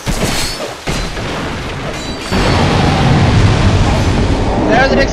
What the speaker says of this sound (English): There's an explosion there.